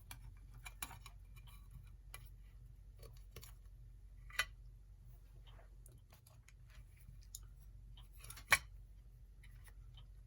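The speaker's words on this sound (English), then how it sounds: "I think the first thing I'm going to do is just cut off what's left of this power cord" Cutters snip through the remains of the power cord on a 1950 Seth Thomas Poise alarm clock, giving a couple of sharp close clicks and a few faint ticks and rustles against quiet background hum.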